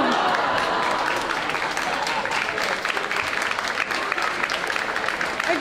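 Audience at a school event applauds steadily and evenly as a student walks up onto the stage, a dense wash of clapping filling the room throughout.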